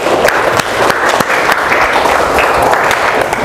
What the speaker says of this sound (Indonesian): Kita kasih aplaus dulu untuk teman-temannya